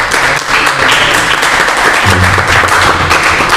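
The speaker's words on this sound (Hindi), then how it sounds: "ताली भाषण में होती है" Audience applause at a spiritual discourse at ISKCON Pandharpur: a dense, steady wash of many hands clapping, loud and sustained throughout with no voices standing out.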